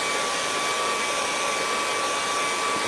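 A hair dryer blows steadily and loudly at close range to dry acrylic paint on a mountain-scene painting, a constant whooshing roar with a high tonal whine throughout.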